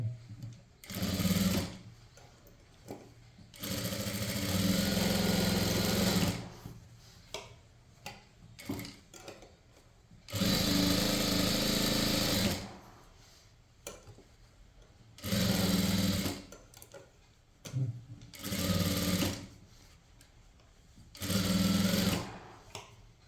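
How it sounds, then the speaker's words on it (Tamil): A sewing machine stitches a blouse sleeve at close range, running in repeated bursts of rapid mechanical whirring with short quiet pauses between runs. "இதுக்கு மேலே இன்னொரு தையல் போட்டுக்கோங்க."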